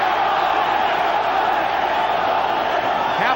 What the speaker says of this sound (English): Crowd chanting for Chavez.